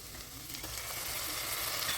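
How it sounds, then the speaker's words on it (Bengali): Onion, ginger and garlic paste fries in a pan for an egg and cauliflower dish, giving a soft, continuous sizzling hiss with faint stirring, steady and unbroken for a couple of seconds. "আদা রসুন পেঁয়াজ একসাথে আবারও ভালো করে একটু ভেজে নিতে হবে"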